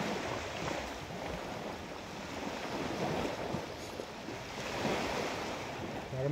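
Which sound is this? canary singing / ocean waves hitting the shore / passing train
ocean waves hitting the shore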